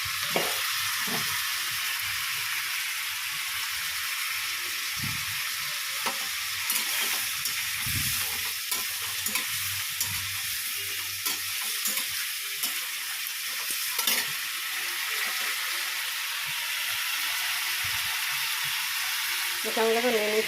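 Goat meat browning in a pan of hot oil gives a steady broadband sizzle that holds for the whole stretch, close and fairly loud, with occasional scrapes of stirring; faint talk is barely present underneath.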